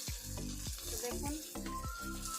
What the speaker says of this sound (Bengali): তো মাছগুলো এবার এক একে ভেজে নেব।